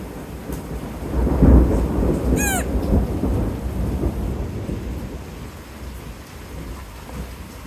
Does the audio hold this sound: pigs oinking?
no